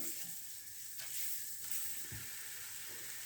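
Onions and garlic frying in a pan until they turn pink: a quiet, steady, even sizzle with soft hiss throughout and no talking.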